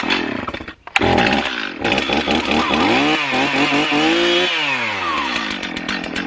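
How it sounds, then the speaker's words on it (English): A chainsaw roars close by, revving and bogging as it notches out wooden posts, its pitch rising and dipping through the cut. "we are going to use a chainsaw to notch out our posts"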